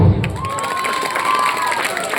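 An audience at a comic poetry performance claps and cheers loudly throughout, with shouts and a thin sustained whistle-like tone rising above the dense crowd noise.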